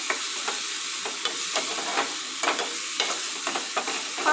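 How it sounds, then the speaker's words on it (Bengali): Ridge gourd peel paste frying in a pan while being stirred steadily, a close, continuous sizzle broken by regular scraping strokes about every half second, with no voices. "যতক্ষণ না এটা ভাজা ভাজা হচ্ছে ততক্ষণ পর্যন্ত এটাকে নেড়ে যেতে হবে"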